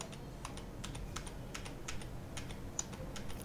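Computer keyboard keys are pressed for undo while modelling in Autodesk Maya, giving a quick, close series of crisp clicks in an irregular rhythm, with no talk.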